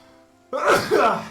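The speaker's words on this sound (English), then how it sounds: "Oh, I'm going to sneeze." One close, sudden sneeze bursts out after a quiet moment, a sharp breathy explosion followed by a smaller second puff, loud and alone.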